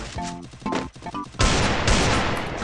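Video game shotgun blasts: after some lighter in-game clatter, two heavy, booming shots crack out in quick succession, loud and close, with no talking.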